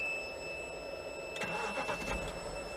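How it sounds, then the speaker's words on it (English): Faint whirr of a starter cranking, then a Morgan Aero 8 engine catches and settles into a quiet, steady idle. "You turn the key, there's ignition."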